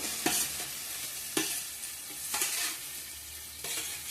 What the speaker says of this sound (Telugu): ఆ చిక్కుడుగాయలు కూడా బాగా నూనెలో మగ్గితే మెత్తగా ఉంటుంది